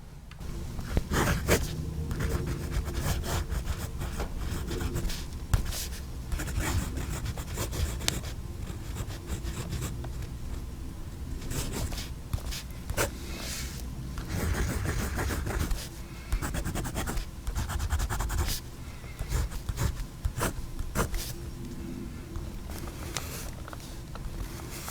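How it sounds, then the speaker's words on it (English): Steel nib of a Jinhao Centennial fountain pen scratching across paper, heard very close up as a steady, textured scritch of continuous strokes with brief pauses, running alone for about twenty-five seconds. "As you heard with the microphone next to the nib, this is very smooth."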